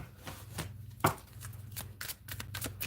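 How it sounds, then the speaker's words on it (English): Tarot cards riffled and shuffled close up, with soft, uneven slaps and flicks against a faint low hum. "Shuffling for Sagittarius."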